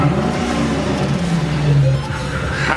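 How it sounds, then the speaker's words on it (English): Mercedes CLK engine revving with the exhaust cutout open, a loud close rise in pitch that peaks and then falls back toward idle. "Go ahead, give it a rev."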